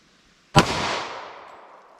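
A single sharp, loud gunshot from a compact pistol with a 3.3-inch barrel firing Federal Train + Protect .45 ACP, a sudden crack followed by a trailing outdoor echo, with no talking.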